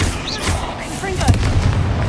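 A Confringo blasting spell explodes in the video game Hogwarts Legacy, a close, booming burst with a sharp crack near the middle, surrounded by whooshing spell effects and layered game noise.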